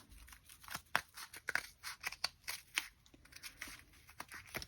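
Scissors snip through paper for a Christmas craft in a quick series of crisp close cuts, about a dozen sharp snips at an uneven pace, with no talking.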